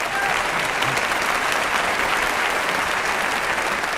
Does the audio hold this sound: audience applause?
yes